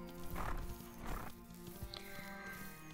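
Horse sounds in The Ranch of Rivershine video game, set in a lupine meadow: two broad whinnies or snorts with clip-clop hooves and steady game music underneath, followed by a small chime.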